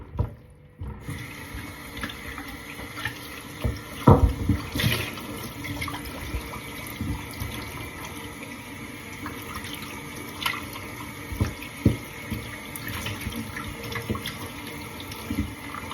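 Whole chicken being rinsed under a running tap in a kitchen sink, a continuous splashing water stream with a few louder knocks and splashes as the bird is handled.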